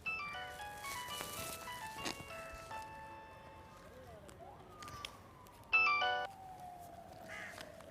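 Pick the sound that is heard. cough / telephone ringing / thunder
telephone ringing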